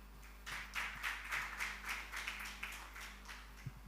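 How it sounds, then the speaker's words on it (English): An audience at an anniversary event of a Ugandan forex bureau and money remittance association applauds its founders, with a few seconds of quiet rhythmic clapping over a constant low hum. "let's clap for you"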